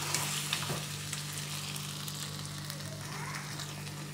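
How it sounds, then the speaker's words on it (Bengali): A paste of onion, cashew and green chili sautés in a pan for Mughlai mutton curry, giving a steady close sizzle with soft stirring scrapes throughout and no talking. "আবার একটু কষিয়ে নেব।"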